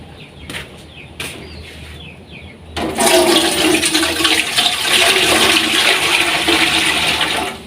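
Water rushes steadily and loudly into a pot for boiling, starting abruptly after a few faint knocks and continuing as a dense, even splashing pour close by; no talking.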